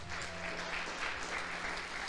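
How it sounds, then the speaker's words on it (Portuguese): A church congregation applauds as a steady, even wash of many hands clapping, sustained and moderately loud, with a faint low hum beneath. "Aplaudo o Senhor por isso."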